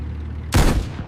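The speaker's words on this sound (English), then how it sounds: "its engine a low growl beneath the distant crackle of gunfire" Distant burst of gunfire crackles in a World War II tank battle setting, a single short loud volley rising suddenly after quiet, with no voices.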